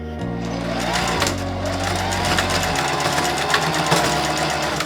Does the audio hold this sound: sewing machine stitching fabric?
yes